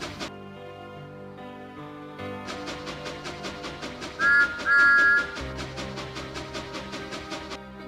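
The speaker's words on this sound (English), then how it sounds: "Thomas pretended not to see and whistled gaily to make Trevor happy." Steam engine whistle from Thomas the Tank Engine, two short bright toots near the middle sounding over light rhythmic music, clear and prominent against a quiet background.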